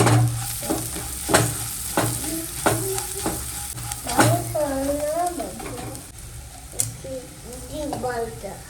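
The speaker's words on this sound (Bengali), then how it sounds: "এই যে এখন ভাজা ভাজা হয়ে গেছে পেঁয়াজ, রসুন, কাঁচা লঙ্কা।" Onion, garlic and green chilli fry in a pan for an egg-and-dal dish while a spatula scrapes and taps in a regular rhythm over a sizzling bed, with a voice speaking partway through.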